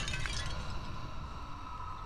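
A glass object shatters in the horror game Amnesia: The Dark Descent, a brief clinking break near the start that trails into a steady low ambient drone.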